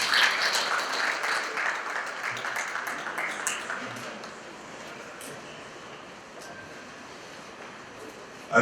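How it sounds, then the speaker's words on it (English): A ceremony audience applauds at a fellows investiture, steady clapping that is strongest at first and then thins and fades over several seconds. "Can I get a round of applause for him?"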